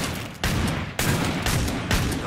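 Loud, dense gunfire from a Gunslinger's weapons in Killing Floor 2 on the Black Forest map, bursts of overlapping booming shots striking in quick succession, roughly every half second, filling the scene with no talk.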